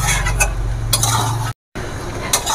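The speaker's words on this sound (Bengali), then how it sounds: "তো সবজিটা আর একটু কষিয়ে নিই ভালো করে।" Vegetables for khichuri are sautéed and stirred in a pan, with a close sizzle and repeated scraping, clinking strokes of a spoon against the pan, briefly cut to silence midway; no voices.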